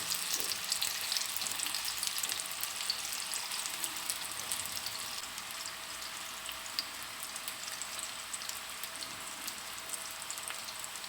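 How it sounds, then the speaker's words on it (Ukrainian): Meatballs sizzle in a frying pan, a dense, even crackling hiss that carries on without a break, moderately loud and close, with no voices over it. "Поки обсмажуються перші мідбойли"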